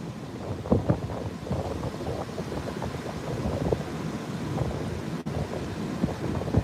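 Ocean surf rolls onto the beach at Padre Island, Texas, under strong gusting wind that buffets the microphone, giving a constant rumbling wash with soft breaking swells and no voices.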